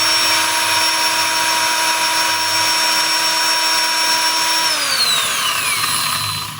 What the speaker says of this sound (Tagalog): So papaandarin natin nakaganito para malaman natin kung maganda pa yung andar ng armature.